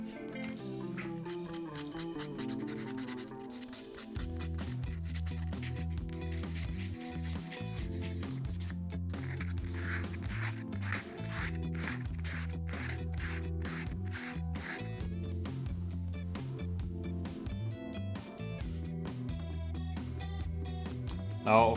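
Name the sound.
hand sanding a wooden ring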